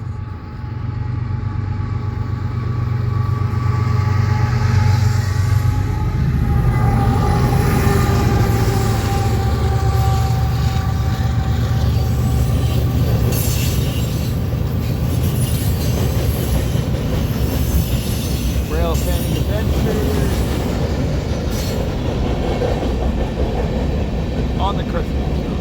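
A westbound freight train rolls past at Ashland, Nebraska, loud and close, with a continuous heavy rumble, rattling wheels and metallic squeal sustained throughout.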